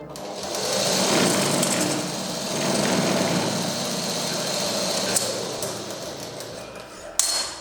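A sewing machine runs a top seam, with the presser foot guiding the stitching along the fabric edge. The motor whirs steadily and closely for several seconds, and a sharp clack comes near the end.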